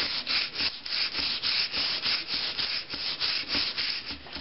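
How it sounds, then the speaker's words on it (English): Sandpaper rubs rust off a sword blade in quick, rhythmic back-and-forth strokes, close and fairly quiet, with no voices. "When they polish down your blade, they use a 600 grit sandpaper."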